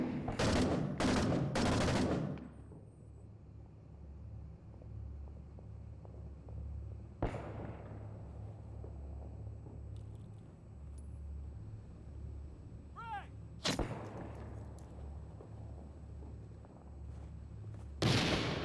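Rifle fire in the Six Days in Fallujah shooter: a loud rapid burst of several shots at the start, then isolated single shots spaced several seconds apart over a low rumbling battlefield ambience.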